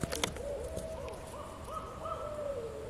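An owl hoots repeatedly in night woods, a series of soft, low, wavering calls at moderate distance against a quiet background, with a couple of brief sharp noises at the start.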